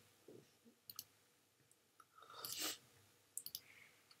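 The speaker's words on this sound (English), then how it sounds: "So I'm just going to keep clicking." Computer mouse clicking during Photoshop work on a car rendering, heard as sparse, close, sharp clicks in small clusters with brief pauses between them, alone and with no talking.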